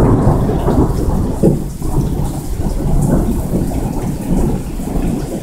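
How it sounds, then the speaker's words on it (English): Heavy rainstorm with loud rumbling thunder rolling continuously over steady rain hitting surfaces, close and full, with no talking. "we hear the fucking thunder"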